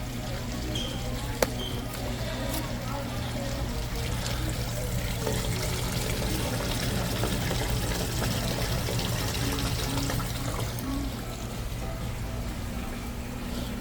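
Water runs through a floor drain clean-out fed by a Zamboni floor cleaner, a steady close trickling and pouring flow over a constant low machine hum, continuous throughout with a brief knock early on.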